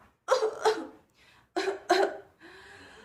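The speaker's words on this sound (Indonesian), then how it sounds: "sang belalang tersedak batuk" Two bursts of coughing, each a pair of sharp harsh coughs close to the microphone, separated by a short pause and followed by a breathy exhale.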